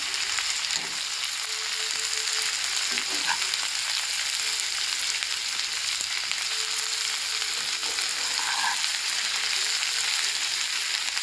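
Chili chicken fries in a pan with chili, tomato and soy sauce, giving a steady, even sizzle that runs the whole way through, with a few faint clinks partway along and no talking.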